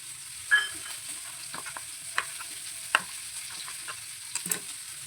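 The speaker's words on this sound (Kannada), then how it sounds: "ಆ ಕಡೆಗೆ ಉಳ್ಳಾಗಡ್ಡಿ ಫ್ರೈ ಆಲತ್ತವ" Onions frying in a pan for a mutton sambar, giving a faint, low sizzle broken by a handful of sharp, brief stirring clicks and taps, close up, no voices.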